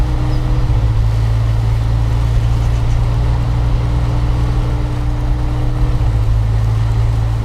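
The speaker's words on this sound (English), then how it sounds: "sometimes while driving in lower gears, vehicle sounds tend to be looping" A heavy truck engine droning in low gear in the off-road driving game SnowRunner, a loud, steady, close rumble with a constant tone that repeats in a loop without change, and no talk over it.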